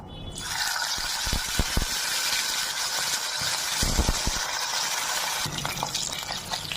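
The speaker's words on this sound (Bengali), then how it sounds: "তেল গরম হয়ে গেছে, মাছগুলো ভেজে নেবো।" Tilapia pieces fry in hot oil in a wok over a gas flame. A steady loud sizzle is broken by scattered knocks and clatters as the pieces are placed and stirred.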